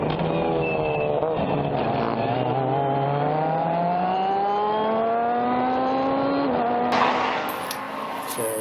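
A race car in a Hoosier Super Tour race at Laguna Seca accelerates hard, overtaking an F4 heading into turn 11, its loud onboard engine rising through the revs, with one upshift before the roar fades under wind noise.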